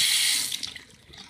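Tap water runs steadily into a shiny bathroom sink, a loud hissing rush at first that eases and quiets toward the end, with no voices.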